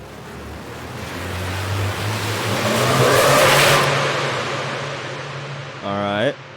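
Custom riser sound effect building intensity, a broad noisy whoosh that swells to a peak and then tapers, with a low sustained tone underneath and a short tonal blip at the end.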